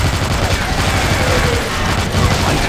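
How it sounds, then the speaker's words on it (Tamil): A mini ray gun fires in a zombie video game, a dense rapid burst of loud, crackling shots running nonstop and close without a break. "இதான் மினி ரே போல"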